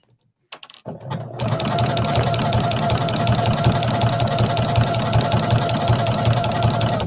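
Close, loud sewing machine stitching appliqué fabric on a beach towel, running continuously at an even pace for over six seconds after a brief start-up.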